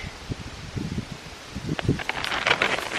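Wind gusts buffet the microphone with broad, rustling noise that builds louder toward the end, alongside some low thumps.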